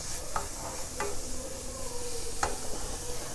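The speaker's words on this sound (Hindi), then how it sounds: "ये इसके अंदर डाल के हम इसको अच्छे से मिक्स कर लेंगे।" Radish paratha filling with finely chopped fenugreek being mixed in a bowl, a faint soft stirring rustle broken by a few light clicks and taps, close and quiet, without speech.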